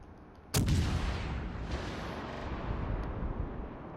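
A sudden loud battleship gun salvo in World of Warships, a single sharp boom followed by a long rolling rumble that fades slowly.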